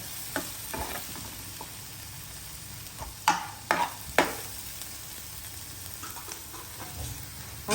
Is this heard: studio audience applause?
no